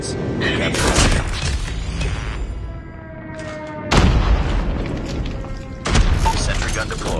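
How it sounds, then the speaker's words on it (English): Airstrike explosions in the Call of Duty Mobile multiplayer game: three heavy booming blasts, each with a long rumbling tail, arrive about two seconds apart over constant battle noise, with game voice lines heard. "Friendly airstrike incoming."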